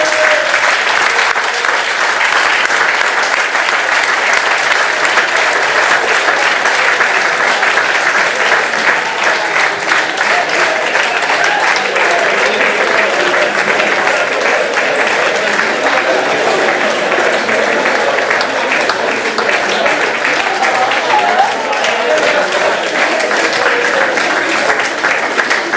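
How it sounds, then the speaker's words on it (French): Sustained, loud audience applause for a junior sports team at a club gathering in a hall, dense, continuous clapping lasting nearly half a minute without a break. "On va les applaudir."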